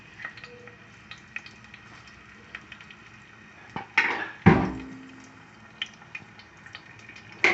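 Onion and garlic hit a hot frying pan, giving a soft steady sizzle with a few sharp clatters and scrapes of utensil against pan partway through, close and fairly quiet.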